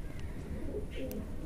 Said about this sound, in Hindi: ए टैडी कबूतरी है।